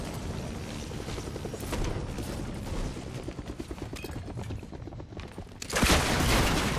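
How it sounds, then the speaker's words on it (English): Gunfire in Fortnite, rapid bursts of shots in quick succession at moderate distance, ending in a louder, denser volley near the end. "Shots coming from the bush?"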